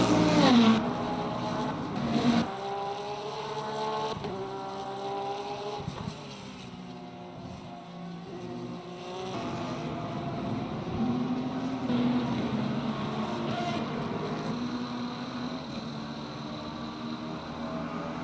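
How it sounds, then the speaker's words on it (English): Porsche hypercar engine in a racing video game at Monza, a steady droning roar that rises and swells in pitch as it accelerates, continuous and fairly loud, with other race cars mixed in and no talk. "We do like the sound of the Porsche."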